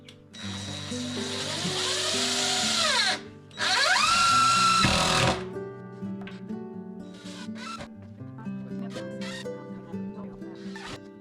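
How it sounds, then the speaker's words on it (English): A power drill drives long screws through shiplap into wall studs in two loud whirring bursts that ramp up and stop, followed by quieter handling noises and clicks. "So I'm putting in long enough screws that I can hit the stud."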